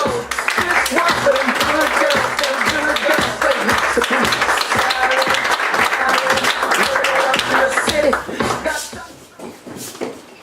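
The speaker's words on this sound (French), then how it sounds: "J'aimerais que vous fassiez un tonnerre d'applaudissements pour Patrick Bruno." A live comedy-show audience claps for a comedy duo coming on stage, loud rhythmic applause with close, distinct hand claps and thumps that fades out near the end.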